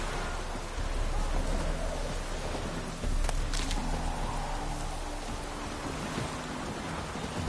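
Steady rain in The Witcher 3 fills the scene with a dense, even hiss of falling water at moderate level, with a couple of brief louder gusts or splashes and faint low rumbling underneath.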